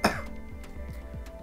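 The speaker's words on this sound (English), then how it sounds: "a dry cough" A single short, dry cough at the very start, close and clear, fading into quiet room tone.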